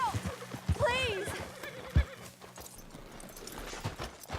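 In Red Dead Redemption 2, a horse gives a loud whinny near the start amid clip-clopping hooves and a thump, with voices speaking around it.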